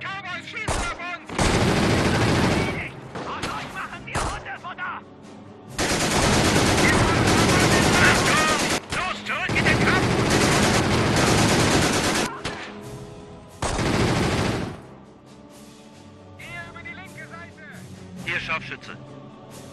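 Heavy gunfire in the real-time strategy game Company of Heroes (Blitzkrieg mod), long loud bursts of rapid automatic shots overlapping, with brief gaps and a voice talking in German during quieter moments.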